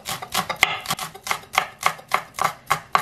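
A knife chops green onion on a cutting board in a quick, steady rhythm of about a dozen crisp thuds, close up and alone.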